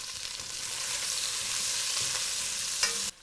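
Onions and carrots sauté in a stew pot with a steady, close, broadband sizzle and soft stirring scrapes, and a brief clink near the end before it cuts off.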